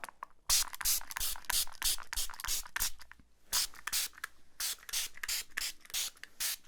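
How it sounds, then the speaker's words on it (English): A tiny spray bottle is pumped over and over at close range, giving a quick run of crisp, hissing spritzes in an uneven rhythm, each burst short and bright with soft mechanical clicks between them. "of spray bottle spraying sounds"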